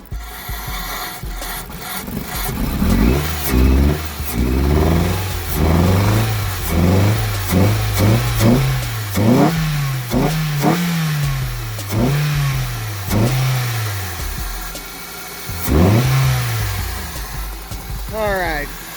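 A car engine runs roughly after its throttle body was cleaned with brake cleaner, revving in repeated rising and falling bursts, loud and close, with voices talking over it.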